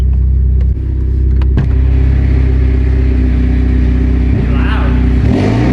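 A repaired Mitsubishi Lancer Evo 10 engine drones loudly and steadily up close, with deep low rumble and a few sharp revving changes, while a voice speaks briefly over it.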